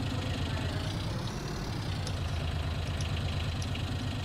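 A John Deere tractor idles in a farming video game, its engine holding a steady, continuous low rumble with a faint knocking pulse, close and alone without any talk.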